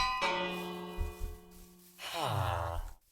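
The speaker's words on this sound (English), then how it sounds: "I want to see where y'all go when I ring the bell." A villager's bell is rung in the Minecraft video game, giving a sustained ringing tone with many steady overtones that slowly decays, then a second bright strike partway through, fairly quiet and with no speech.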